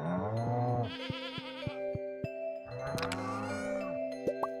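Sheep in Stardew Valley let out two wavering, quivering bleats, separated by a pause, over a soft game music bed with light chiming notes.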